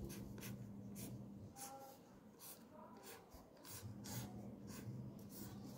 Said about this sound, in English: let me draw the same diagram